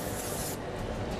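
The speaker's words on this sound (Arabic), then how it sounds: "ايوه بس بعد سبراي." Cooking spray hissing from a can onto a pan in a TV cooking show kitchen, a continuous close, loud spray that runs through the whole moment without pause.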